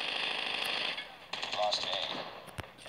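An Uzi submachine gun fires in Call of Duty Mobile: rapid, loud bursts of automatic fire close up, broken by short gaps, with a voice talking over part of it.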